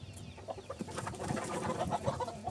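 A molting naked neck chicken clucks softly amid a low farmyard bustle, with a few short, faint calls scattered through the scene and no voices.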